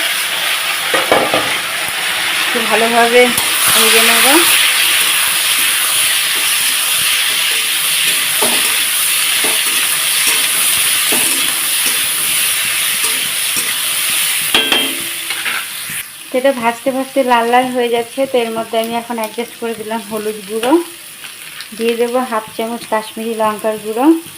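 Young jackfruit fries with five-spice and dried chilli in a hot pan, making a dense, loud sizzle with stirring clatter; the sizzle later turns choppier, and a faint voice talks underneath.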